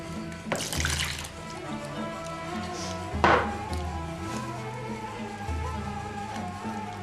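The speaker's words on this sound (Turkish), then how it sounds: "Unla kısa süre karıştırdıktan sonra sıvı malzemelerimizi ekliyoruz." Liquid ingredients splash and pour into flour for Turkish walnut bread, a near, steady watery flow with a brief clatter partway through and no speech.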